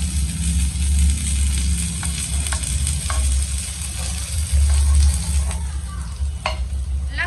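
Murtaba fries in ghee on a hot pan with a steady, loud sizzle. Occasional scraping and tapping sounds come from flipping it with a spatula.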